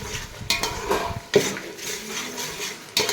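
Egg biryani masala being stirred and fried in oil in a pan, with a spoon clattering against the metal in scattered scrapes and knocks over a low, steady background, and no one speaking.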